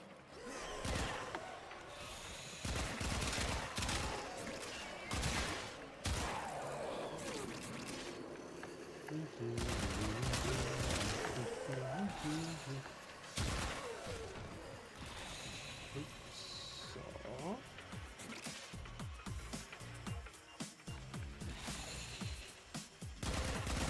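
Rapid video-game gunfire crackles in dense bursts and fusillades almost continuously, mixed with mechanical clicks and game sounds, while a person talks over it.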